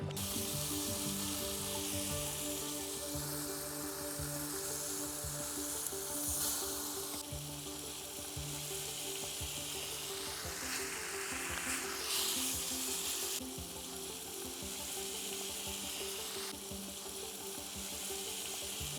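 Steady sizzling and bubbling of a crab curry simmering in a pot, continuous throughout with occasional stirring scrapes, close by and fairly loud.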